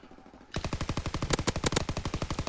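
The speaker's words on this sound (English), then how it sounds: "The PPSH has horrible recoil." A PPSh submachine gun blazes away in a video game, a fast, steady automatic burst of evenly spaced loud shots that starts abruptly after a brief quiet moment and runs on without pause.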